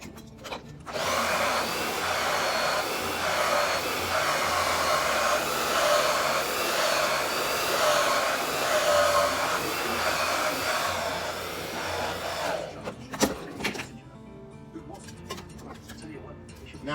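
Handheld hair dryer running on high heat, a steady loud whoosh for about twelve seconds before it switches off, followed by clicks and handling noises.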